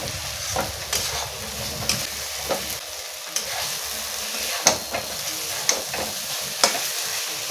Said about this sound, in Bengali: ভেজে রাখা চিংড়ি মাছগুলো দিয়ে দেবো। মাছগুলো একটু কষে নেব